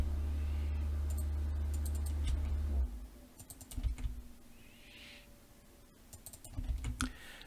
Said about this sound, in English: I'm just going to copy that and come along here and just double click and paste.